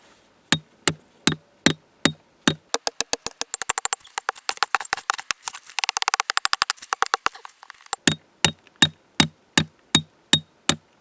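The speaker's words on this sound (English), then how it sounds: "Probably shouldn't use my rock hammer for this." A metal rock hammer rings out on quartz in a steady rhythm, speeding into a rapid flurry of sharp taps before slowing back to evenly spaced strikes.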